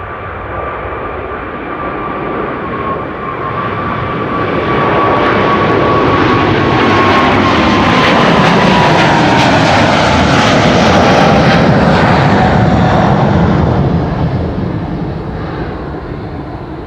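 A KLM airliner on Flight 743 to Lima roars loud and close at Amsterdam Schiphol Airport, its jet engine whine steady as the broad rumble swells to a peak mid-pass and eases slightly toward the end.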